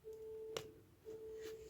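A telephone rings unanswered, a steady electronic tone broken by a short click and then resuming, heard close and fairly faint with no voices.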